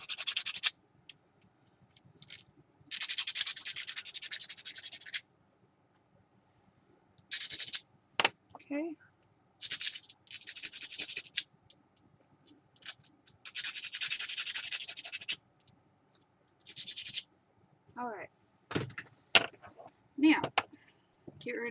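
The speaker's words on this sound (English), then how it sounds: "you're just gonna get a little sander and you're gonna sand those edges" A small handheld sander works the edges of a wine cork in short bursts of broadband grinding, several separate passes with pauses between, close and fairly loud, with some brief handling noises and a few voiced sounds.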